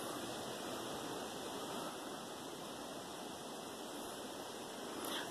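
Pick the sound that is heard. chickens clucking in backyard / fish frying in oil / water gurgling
water gurgling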